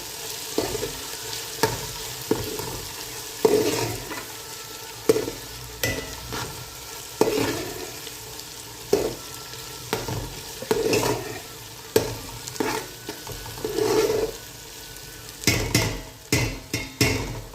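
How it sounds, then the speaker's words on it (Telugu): A spoon stirs fish curry in a pan after tomato pieces and mint have gone in. Rhythmic scraping strokes repeat over a soft sizzle, close and fairly clear, with no one talking. "టమాటా ముక్కలు పుదీనా వేసాను ఇప్పుడు బాగా మిక్స్ అయ్యేటట్టు మనం కలుపుకోవాలండి"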